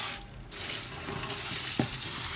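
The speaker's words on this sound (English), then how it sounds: "I'm going to show you how to wash the lobster." A large raw lobster is rinsed under running tap water, giving a steady close splashing hiss that briefly drops out, then resumes with a small thump from handling.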